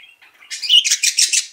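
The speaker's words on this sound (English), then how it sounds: "Yes, we have talents here with this new baby bird." A baby budgie gives a quick run of high, bright chirps and tweets close by, rising in a steady stutter of short calls over about a second and a half with no talking.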